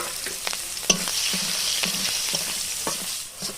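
Sliced onion fries in hot oil tempered with black cumin (kalonji), a continuous close sizzle punctuated by repeated scraping strokes of a spatula stirring the pan.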